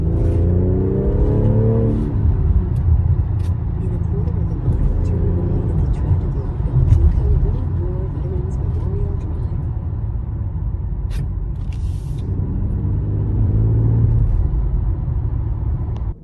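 A BMW X4 M40i in sport mode, its exhaust giving a deep continuous rumble from inside the cabin that swells as it accelerates, with low burbling throughout and a rising engine tone near the start and end.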